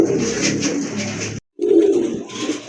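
Rajgolla pigeons coo steadily up close, low throaty calls broken by a brief silent gap before the cooing resumes amid other birds.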